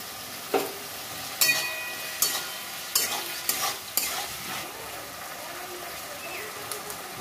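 Ginger and cumin paste frying in a pan with a soft background sizzle, broken by several sharp spoon scrapes and clinks as it is stirred, close by.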